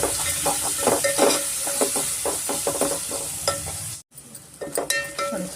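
Ginger and garlic fry in oil for mutton biryani, a close hissing sizzle broken by rhythmic spatula scrapes and clinks against the pan, with a brief dropout near the end before the stirring resumes.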